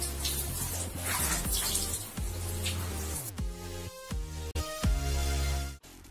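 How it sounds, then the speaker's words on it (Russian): Running water pours steadily from a tap while a cleaning rag is rinsed beneath it, a continuous splashing flow with brief dips where the rag is moved through the stream, heard alone without talk. "Тщательно промойте тряпку"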